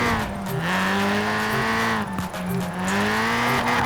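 A loud car engine in Forza Horizon 4 revs and drops in pitch, with tire-screech tones over a steady roar.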